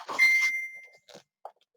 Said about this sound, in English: Sorry, that's my phone. I think my son's messaging me.